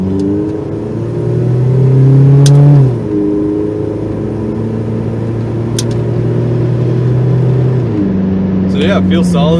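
A car's engine hums and rises in pitch as it drives and turns around after a suspension bushing upgrade, a steady interior drone with one surge, and a voice speaking over it.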